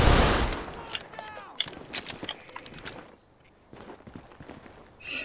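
Revolver gunshots in a video game ring out as several sharp, loud reports in the first few seconds, followed by quieter shuffling and mechanical clicks.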